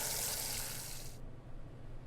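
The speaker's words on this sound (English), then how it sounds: "Water begins running into the sink." In a horror adventure game, water runs from a faucet into a sink as a steady broadband rush that cuts off abruptly partway through, leaving only a quiet low hum.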